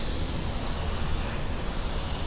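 A spray gun spraying sealer hisses steadily, a continuous broad airy spray that stays loud and even throughout without pauses or speech.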